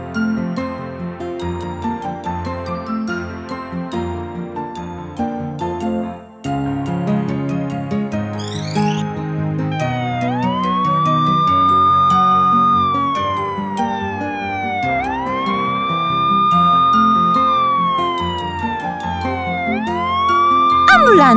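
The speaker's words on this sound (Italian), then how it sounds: "Ambulanza!" A wailing ambulance siren in a children's cartoon rises and falls in long sweeping tones over bright background music, loud and continuous.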